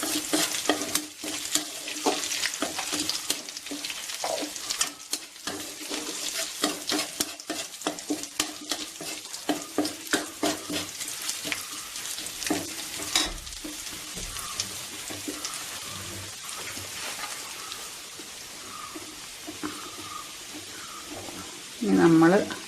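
Onion fries with crushed chili and turmeric in a pan for a bitter gourd and prawn curry, with dense crackling sizzle and repeated scraping stirs that ease into a softer, steady frying hiss, ending in a brief voiced sound.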